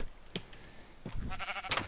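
Sheep bleating in a video game, a couple of short nasal bleats close together in a game scene, with faint background game noise between calls.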